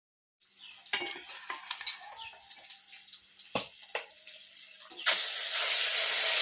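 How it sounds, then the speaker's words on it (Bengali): Fish fries in a pan of oil while fish fat fries alongside, making a close, steady sizzle broken by sharp stirring scrapes and clatters. Near the end the sizzling swells into a loud, dense hiss. "মাছ তো ভাজা চলছে, আর পাশে মাছের তেলটা ভেজে নিচ্ছি"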